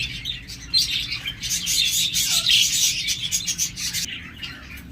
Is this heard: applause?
no